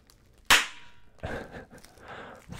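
Bubble wrap gives one loud, sharp pop up close, then a few softer crackles and smaller pops in an otherwise quiet, soft-spoken setting.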